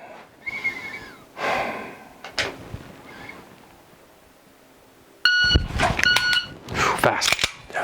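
A shot timer beeps to start a dry-fire pistol draw: a sharp, loud tonal beep cuts in abruptly, followed by quick clattering movement, with soft breathing and small noises before it.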